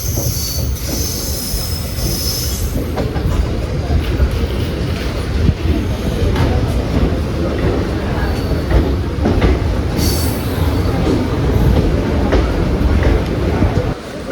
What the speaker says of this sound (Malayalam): അങ്ങനെ കോഴിക്കോട് റെയിൽവേ സ്റ്റേഷനിലേക്ക് നമ്മളെത്തി